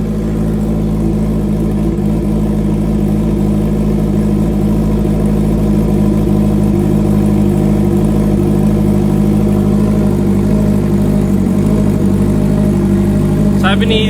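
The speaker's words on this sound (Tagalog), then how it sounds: "So this is how the bike sounds like right now." A Honda CB 650R motorcycle with its stock exhaust idles close by, a loud, steady, even engine drone holding constant throughout.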